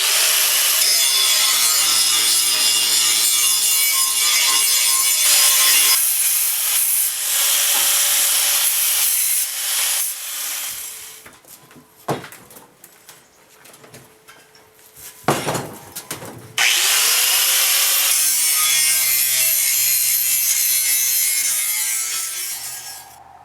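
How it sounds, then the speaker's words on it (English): A grinding wheel cleans up steel on a racing mower frame, a loud continuous abrasive whine that drops out for several seconds midway with a few short bursts before resuming steadily. "Alright, so we swapped out to our grinding wheel. And now it's time to do a little bit of cleanup."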